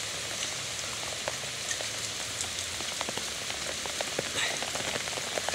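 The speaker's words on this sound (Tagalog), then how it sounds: "kunti lang yung nakuha namin kasi inaabot kami ng ulan ngayon" Rain falls outdoors by the sea, a soft, steady patter of drops on surfaces, fairly faint and continuous, with no voices.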